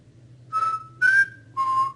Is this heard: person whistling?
yes